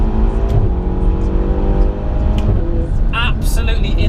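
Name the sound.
Ferrari GTC4 Lusso T accelerating with gear shift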